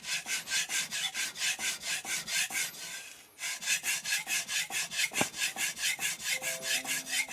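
A Tojiro kiritsuke knife sharpened on an Arashiyama 1k whetstone, rhythmic back-and-forth rasping strokes at a steady pace, close and clear, with one brief pause partway through.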